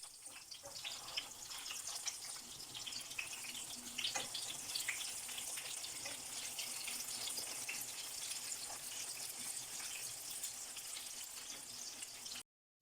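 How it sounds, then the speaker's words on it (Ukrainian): Soft, continuous sizzling and crackling of chicken cutlets frying in a pan over medium heat, quiet and steady, ending abruptly. "Смажимо котлетки на середньому вогні до золотистого кольору з обох сторін."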